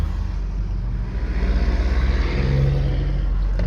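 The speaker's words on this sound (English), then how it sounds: "It sounds very good. Idle's very smooth." A 2006 Ford F250 with the 6.0L diesel engine and 138,000 miles idles smoothly, giving off a steady, close low rumble with an even, pulsing rhythm.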